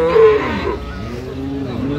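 A dairy cow or calf at a cattle market in Amabari, Dinajpur gives a loud, close moo that fades into a drawn-out lowing tone, with crowd noise behind it.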